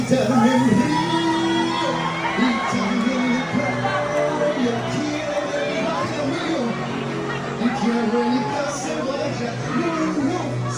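A crowd of people up and dancing to music, a dense wash of chatter, whoops, shouts and cheering layered over a steady musical backing, held at a constant full level throughout.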